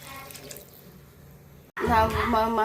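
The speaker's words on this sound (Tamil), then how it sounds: "இப்போ தண்ணி ஊற்றிக்கலாம்" Water pouring into a cooking pot, a sudden loud splashing gush starting partway through after a quieter stretch, close and continuing to the end.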